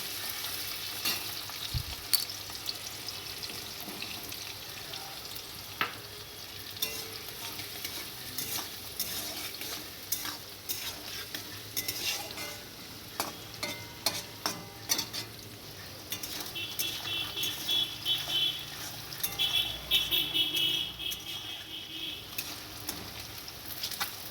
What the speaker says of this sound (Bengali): তেল গরম করে পেঁয়াজ আর আলুটা ভেজে নেব